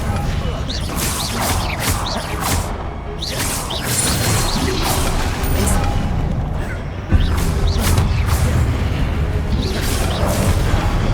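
Confringo spell blasts in the Hogwarts Legacy video game, a series of booming impacts and whooshes amid combat effects, with a sharp louder burst partway through and speech in the background.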